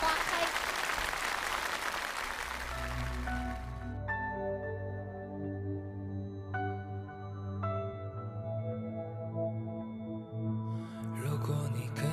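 A large audience claps loudly for a stage performance at the CCTV Spring Festival Gala, a dense burst of applause lasting about three and a half seconds before music takes over.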